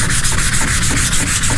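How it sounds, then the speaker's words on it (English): Steady rhythmic rubbing of wet sanding on glazing putty over car bodywork, close and loud, with back-and-forth strokes repeating roughly every third of a second and no talk. "Sanding all this glazing,"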